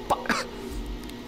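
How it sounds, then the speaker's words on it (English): A short, throaty cough bursts out twice in quick succession, close and fairly loud, then trails into a faint murmur of background noise. "Made me cough, actually."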